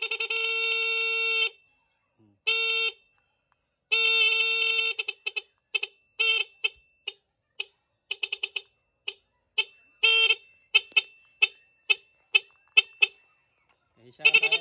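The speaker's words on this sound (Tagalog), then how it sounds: "rapid horn, eto siya" A NHAY 3+ Pro Music horn fitted to a motorcycle blares in loud, close, reedy blasts, first a few long sustained honks, then a rapid staccato series of short toots.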